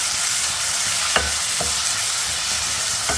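Minced meat kheema with whole spices, including cardamom, fries on a high flame, giving a steady loud sizzle broken by occasional scraping stir strokes. No one speaks.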